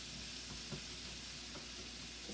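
Beef frying in a wok for hoisin beef udon, a steady soft sizzle and hiss with a few faint scraping taps, fairly quiet and with no talking.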